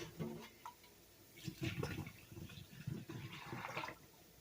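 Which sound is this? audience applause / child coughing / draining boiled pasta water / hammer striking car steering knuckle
draining boiled pasta water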